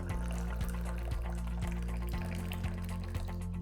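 Moroccan tea pouring from a height into a glass, a short steady liquid stream splashing faintly under a low background hum.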